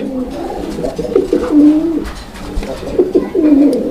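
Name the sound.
pigeon cooing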